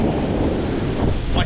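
Ocean waves wash onto a beach on the Indian Ocean coast of Sri Lanka, a loud, close surge of surf mixed with heavy wind buffeting, and a brief voice near the end.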